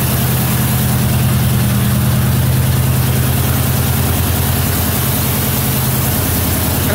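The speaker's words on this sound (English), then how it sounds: "I'm gonna let it warm up and let the idle kick down" A 1977 Mercury Marquis engine idles steadily with a deep, continuous rumble and a constant hiss, close and alone.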